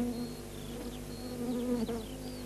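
Several honeybees buzz close by at a feeding dish, their droning hum steady with occasional higher whines as individual insects pass near.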